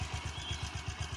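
A small three-wheeled auto-rickshaw goes by near a bridge, its engine putting out a steady, pulsing low rumble with a regular beat, fairly close and without speech.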